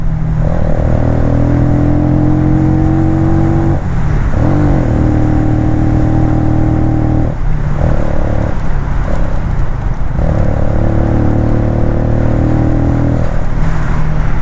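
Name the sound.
Benelli Motobi EVO 200cc motorcycle engine while riding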